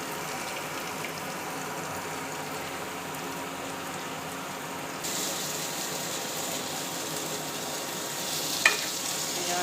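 A pot of food is stirred in a home kitchen, with steady scraping and sizzling textures that stay soft and continuous, growing slightly brighter partway through, plus one short clink near the end.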